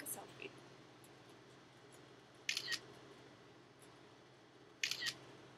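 Camera shutter clicking twice for a selfie, two brief, sharp clicks a couple of seconds apart over quiet room tone.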